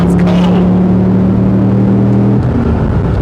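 A Porsche Boxster S fitted with an LS7 V8 engine pulls hard under throttle, a loud, deep droning engine note rising steadily before easing off abruptly near the end.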